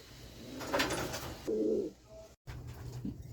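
A hen pigeon gives low, throaty coos, a couple of soft rolling calls close by, with a quiet background.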